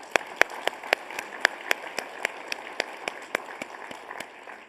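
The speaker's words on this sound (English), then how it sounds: "Why don't you give yourselves a round of applause?" Audience at a conference luncheon clapping in a sparse, uneven pattern of distinct individual claps, fairly quiet and close, with no continuous roar.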